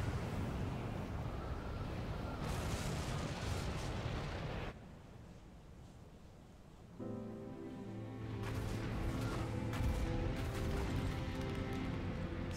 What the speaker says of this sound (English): cannon has fired, destroying the superstructure that exists over the city